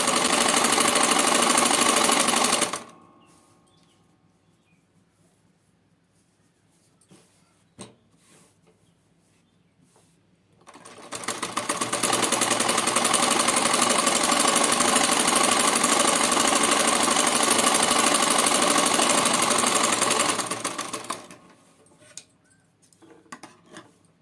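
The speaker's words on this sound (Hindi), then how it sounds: "इस पर सीधा एकदम हाथ से प्रेस करते हुए इस पर सिलाई लगाएंगे" A sewing machine stitches the hem (mohri) of a salwar: a loud, rapid, steady mechanical whir for a few seconds, a pause with faint handling clicks, then a longer continuous run of stitching before it stops.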